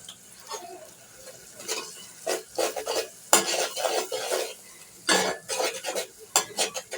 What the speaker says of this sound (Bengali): এখন মশলাগুলো ভালো করে কষিয়ে নেব